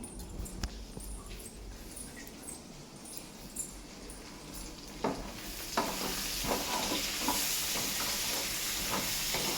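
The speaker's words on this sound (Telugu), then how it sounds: "మగ్గించుకున్న తర్వాత కలిపేసుకుందాం" Prawns and gongura leaves being stirred in a pan give soft scraping strokes over a steady sizzle, with a few sharper utensil knocks toward the end.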